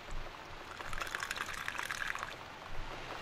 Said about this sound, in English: I'll better pour it down the sink and start again